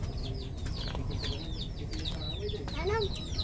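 Chickens cluck and squawk in short, repeated calls over a low background rumble, some close and some farther off, with a few louder clucks near the end.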